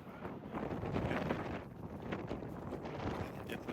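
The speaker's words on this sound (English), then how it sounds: "you probably can hear the wind blowing" Wind blowing across open desert outside Las Vegas, a steady broadband rush with gusty swells and low buffeting against the microphone, continuous and fairly loud throughout, with no voices.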